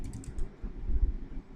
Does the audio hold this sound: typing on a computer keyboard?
yes